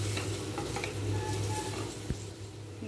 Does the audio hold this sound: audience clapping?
no